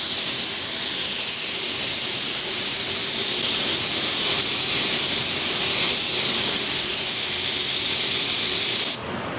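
Adhesion promoter is dusted onto a car part during an Evo 8 rebuild, a loud continuous close-range aerosol spray hiss lasting about nine seconds before cutting off abruptly.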